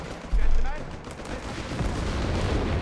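Artillery bombarding a Panzer tank in the real-time strategy game Company of Heroes 3: a sudden heavy boom is followed by a rumbling crackle of shelling and explosions that continues steadily underneath.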